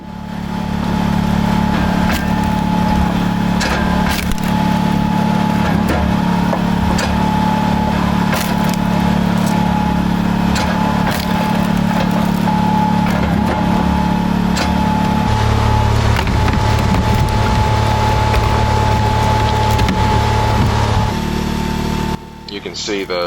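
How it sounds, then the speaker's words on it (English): A Wolfridge vertical log splitter runs steadily on its engine, a constant drone with a hydraulic tone that shifts as it forces through flat-cut ash and maple rounds, and a person talks over the machine. "You can see the Wolfridge vertical splitter, just, you know, the rounds are cut nice and flat, really just tears through it"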